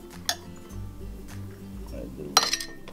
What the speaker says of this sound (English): we're gonna go ahead and load our ingredients into this jar